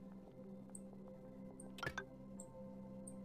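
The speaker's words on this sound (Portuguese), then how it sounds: "essas turbinas aqui, elas vão pingar direto no chão" Water drips from turbines onto the floor in the video game Oxygen Not Included, a few faint, scattered drip sounds over a low steady hum with one brief louder splash.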